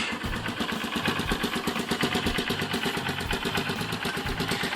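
A Honda CB125E motorcycle fitted with an IXIL aftermarket exhaust idles steadily, its fast, even putter loud and close, with no other sounds.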